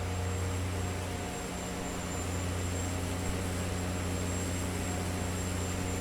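Versatile tractor engine in Farming Simulator 19 holding a constant, broad droning roar with a steady low hum, loud and unbroken throughout with no talking.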